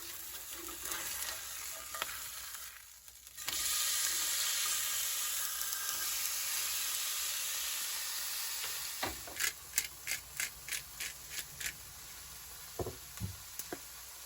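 A pork steak seasoned with salt and pepper sizzles in a pan inside a pickup truck camper, a steady close frying hiss broken by a run of rhythmic knocks and a few scrapes near the end.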